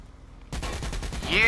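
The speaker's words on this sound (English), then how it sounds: "Who the fuck is shooting at me?" Rapid gunfire from the video game Saints Row IV erupts after a brief quiet moment, a loud burst of repeated shots ending in a rising swoosh.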